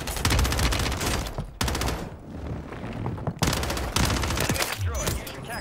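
Airstrike gunfire and explosions in a Rebirth Island battle royale match: dense rapid automatic fire in long bursts broken by brief pauses, loud and close, with a voice speaking underneath.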